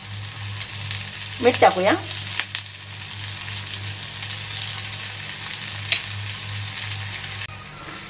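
Onions sizzle steadily in a pan as they are fried for potato bhaji, a soft continuous crackle with a few louder stirring scrapes. Someone speaks briefly over the frying.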